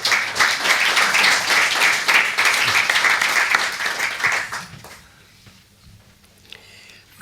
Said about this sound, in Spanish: No hace falta que aplaudan a todos